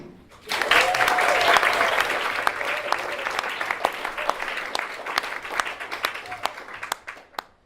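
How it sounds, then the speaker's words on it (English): Wedding guests break into a round of applause for the bride, a dense burst of clapping that starts suddenly, stays loud and steady, then tapers off near the end. "I think we should give her a round of applause"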